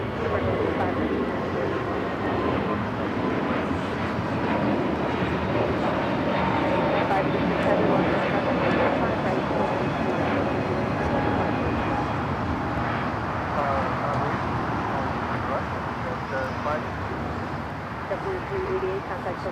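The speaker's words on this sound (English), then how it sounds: "How about a JetBlue flight taking off to Boston?" A JetBlue jet airliner takes off at LAX, a broad sustained roar that swells slightly in the middle and holds steady, heard at a distance while voices talk over it now and then.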